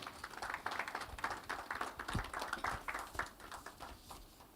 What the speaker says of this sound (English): A round of applause for Pamela,